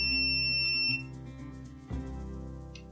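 A Kaiweets KM601S multimeter gives a continuity test beep, a steady high electronic tone lasting about a second before cutting off, over a low constant hum.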